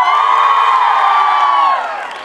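A large audience at a dance academy annual function cheers and shouts loudly in a sustained roar of voices that fades slightly toward the end.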